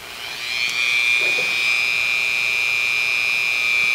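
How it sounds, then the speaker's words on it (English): A Dremel rotary tool fitted with an EZ Lock cutting disc spins up and holds a steady, high-pitched whine, close and fairly loud, with no voices. "got the Easy Lock cutting disc in the Dremel"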